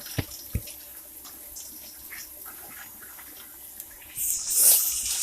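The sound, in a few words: water poured into seafood sauce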